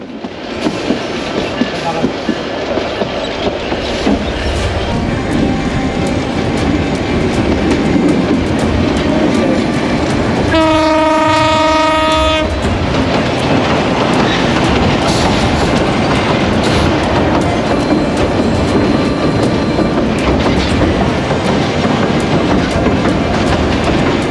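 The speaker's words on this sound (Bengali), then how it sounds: "সপ্তাহে প্রতিদিন চলাচল করে এই ট্রেনটি।" Karatoya Express passenger train running on rails between Bogura and Gaibandha in Bangladesh, a loud continuous rumble and clatter of wheels heard from close by, with a brief tonal horn or whistle partway through.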